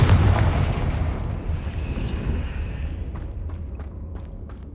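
In Hogwarts Legacy, the Confringo fire spell lands with a loud booming explosion that rolls and fades, followed by a few sharp crackling pops as the blast dies away.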